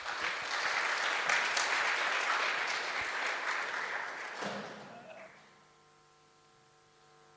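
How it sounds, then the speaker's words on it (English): An audience at a talk on tackling aging applauds a speaker: steady, dense clapping from a crowd that swells, tapers off after about five seconds and leaves a low electrical hum. "a round of applause, please."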